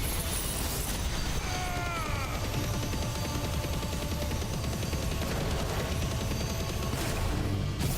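Giga Flare attack in Final Fantasy 16: a dense, continuous roar of crackling, rumbling impacts and mechanical grinding that stays loud throughout, with no voices.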